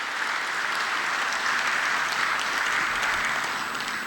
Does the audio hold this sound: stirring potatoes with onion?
no